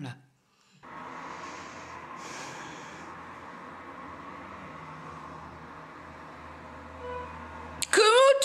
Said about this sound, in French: elle ronfle